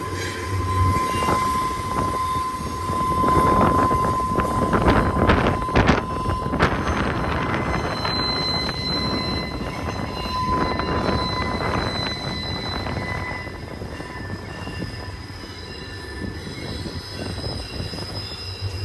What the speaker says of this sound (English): A lot of trains today